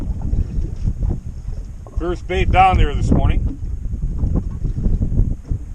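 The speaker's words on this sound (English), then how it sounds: "It's pretty windy out here" Strong wind buffets a fishing boat on open water, a low continuous rumble of wind noise under someone talking near the microphone.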